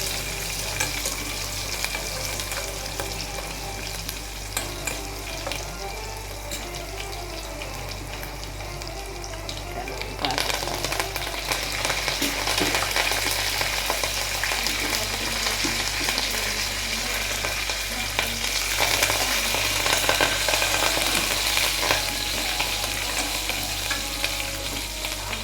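Onions hiss and crackle in a hot pan while being stirred, a steady close sizzle that grows louder and denser partway through, with occasional scraping from the spoon and no voices.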